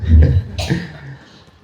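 A single man's cough, a short rough burst with a low grunt before it, then quiet.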